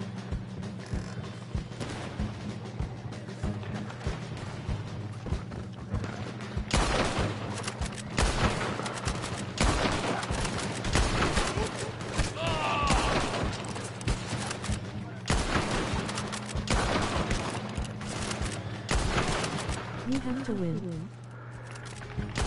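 Bursts of gunfire in Red Dead Online, a gunfight against metal-helmeted enemies, with repeated shots and volleys mixed under steady in-game noise and intermittent voices talking.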